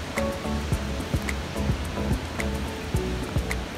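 Surf washes onto Kuta Beach in Bali, a continuous rolling wash with soft rhythmic bursts, moderately quiet and with no one speaking.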